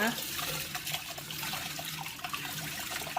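Soaked sticky rice being rinsed and swished by hand in water, a continuous close sloshing and trickling with small splashes throughout.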